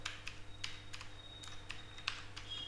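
Computer keyboard keys being pressed during Excel shortcut use, a few quiet, sharp clicks at irregular intervals against a low background hum, no talking.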